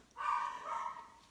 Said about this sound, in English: Bijou's going to bark because she hears me talking.